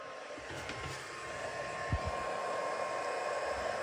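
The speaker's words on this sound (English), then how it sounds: "I'll grab my heat tool" Heat embossing tool blowing hot air, a steady close whooshing hiss running continuously for a few seconds with no talk.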